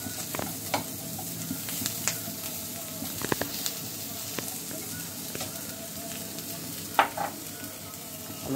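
Prawns fry in hot soybean oil, giving a steady crackling sizzle broken by scattered pops and a few sharper utensil scrapes and clinks.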